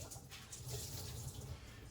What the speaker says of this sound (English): So I'm going to rinse out the cloth.